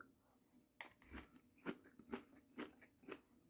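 Crisp, crunchy chewing of homemade sauerkraut, with several distinct bites crackling in a steady rhythm, up close and fairly quiet.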